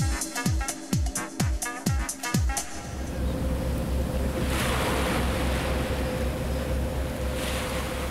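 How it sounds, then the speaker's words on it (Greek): Several sharp rhythmic thumps at first, then a steady, loud roar of surf and wind washing continuously over the rest, on a beach in Greece. "Είμαστε σε μία παραλία, μόνοι μας."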